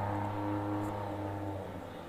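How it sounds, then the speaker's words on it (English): A car engine drones steadily nearby with a low, sustained rumble that fades slightly toward the end. "Everyone thinks you're real neat with that loud car"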